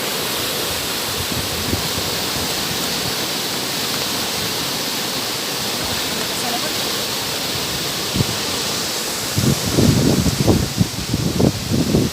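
Steady broadband roar of strong Typhoon Rolly wind rushing continuously in Sayao, Mogpog, Marinduque, with gusty buffeting bursts growing louder near the end.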